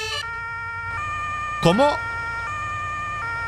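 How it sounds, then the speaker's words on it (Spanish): Fire truck siren in Farming Simulator 22 wails steadily and loudly throughout. A person briefly exclaims partway through. "¡Cuidado! ¡La sirena! La tengo puesta para algo."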